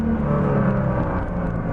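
A Nissan GT-R on a straight road gives a loud, steady engine drone under acceleration, heard from inside the car as a continuous low rumble with no talk.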